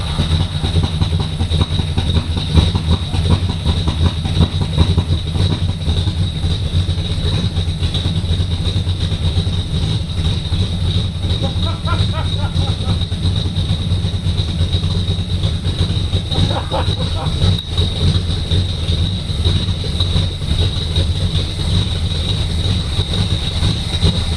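A 3rd gen Camaro small-block V8 cranks and runs, a loud, steady, close engine drone holding throughout with slight fluctuations.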